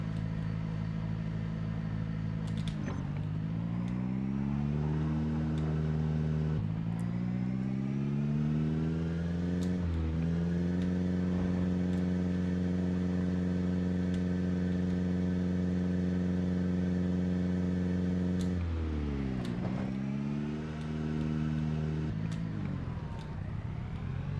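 A car engine drones steadily while driving backwards, loud and close, its pitch sliding up and down with repeated revving surges and gear shifts over a constant rumble.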